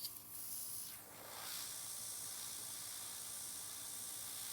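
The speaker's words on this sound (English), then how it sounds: "And I'm spraying on the top." An airbrush spraying nail art onto nails in a nail workshop, a quiet continuous airy hiss lasting several seconds with a slight swell near the start, close and soft.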